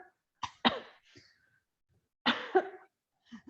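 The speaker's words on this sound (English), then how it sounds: "do a queen's cough or a stomach punch and see what you feel." Two deliberate coughs in a chair or standing yoga class for core strengthening, each a short forceful burst, close and clear, with a softer breath or throat sound at the very end.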